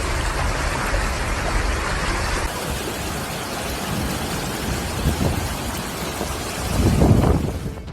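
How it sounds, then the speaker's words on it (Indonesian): A heavy storm with rain and hail pours down in Taif, Mecca, a dense, continuous roar of rainfall with low rumbles of thunder swelling near the end; no voices. "Badai dan hujan es kembali turun di Taif, Mekah pada 24 April 2021."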